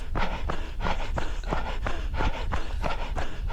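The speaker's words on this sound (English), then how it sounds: "As you can tell by the breathing." A parkrunner pushing hard near the finish line at Vicar Water Country Park breathes heavily in close, rhythmic pants, roughly two gasps per second, loud and steady with footfall thuds underneath.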